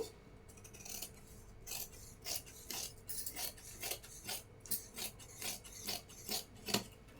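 Scissors cut through blouse fabric lining in a rhythmic run of crisp snips and rasping strokes, each cut a short close burst, speeding up toward the end with no voices.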